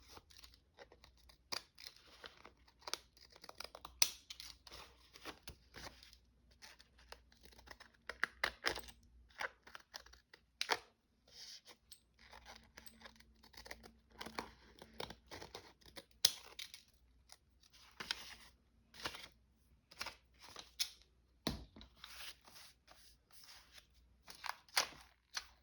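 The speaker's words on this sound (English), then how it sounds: "I'm using my jaggedy scissors so that there is like a textured edge to it" Jagged-edge craft scissors snip through paper for a junk journal, a close, faint series of irregular crisp cuts and rustles with brief pauses between bursts.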